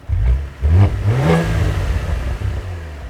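A Cadillac CT4-V Blackwing, still in its break-in period, revs hard from close by, its engine and exhaust rising in pitch through a quick burst and then holding a loud, rough, sustained roar.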